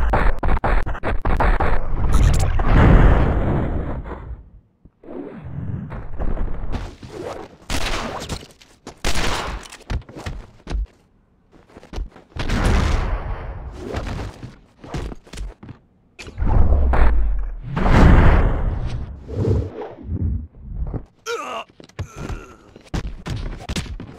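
Bursts of loud gunfire in The Matrix: Path of Neo, heavy shots clustered into volleys separated by short gaps, with footsteps and impacts mixed between them.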